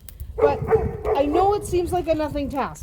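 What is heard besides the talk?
dog barking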